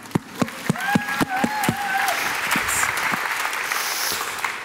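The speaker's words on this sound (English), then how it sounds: "please welcome Kenneth Lin and John Rampton with a big, big, big round of applause" Audience applause welcoming two speakers on stage at a business conference, a handful of distinct nearby claps with scattered clapping around them, plus a brief whistle early on.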